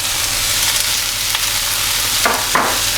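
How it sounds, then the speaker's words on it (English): Salt and chilli chips stir-frying in a wok, a steady close sizzle with two sharp scraping bursts near the end as the food is pushed around the pan. "I'm just pushing the food to the outside of the wok just to get all of that flavour from the wok itself"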